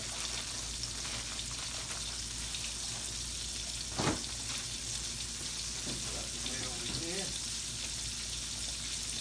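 Steady sizzling of fish frying in hot oil fills the clip, a constant crackly hiss with a brief clatter partway through.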